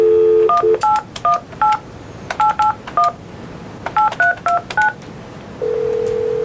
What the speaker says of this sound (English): first you push this button, then you dial your number